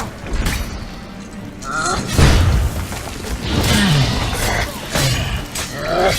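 A fire attack strikes a giant in The Witcher 3, heavy booming whooshes and thuds mixed with a roaring creature and a few voiced grunts.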